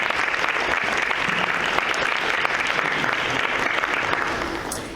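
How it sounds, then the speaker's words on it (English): An awards ceremony audience gives dense, sustained applause to a morning panel, a loud even wash of clapping that eases slightly at the end. "And just one more round of applause for our incredible panel this morning."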